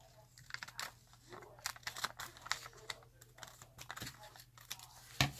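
Glassine paper being cut for a handmade bag, with crisp, papery crinkles and snipping ticks close by in a quiet room, arriving in uneven bursts and ending on a sharper snap.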